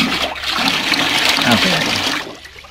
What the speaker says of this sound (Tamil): இதில் இன்னும் கொஞ்சம் தண்ணியை நம்ம வந்து சேர்க்கணும் தண்ணி கொட்டுங்க